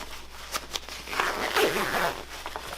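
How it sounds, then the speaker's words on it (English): Liner zipper on an M-65 field jacket drawn up in a short run of scratchy rasps, close and moderately loud, with a few clicks of fabric handling before it. "Start the zipper,"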